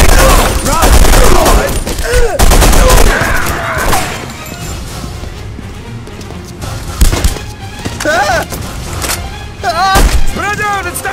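Gunfire fills a fight in The Punisher video game at Pier 74: loud, dense bursts of rapid shots and booms, with shouted voices mixed in throughout.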